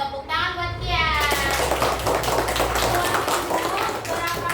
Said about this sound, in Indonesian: Yuk, Kian, tepuk tangan buat Kian.